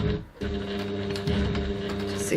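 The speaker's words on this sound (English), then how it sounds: "I'm just going to back stitch" A sewing machine back stitches around a bag at a 3.1 stitch length, making a steady mechanical hum with a short pause near the start, close and moderately quiet.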